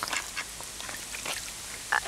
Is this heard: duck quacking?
yes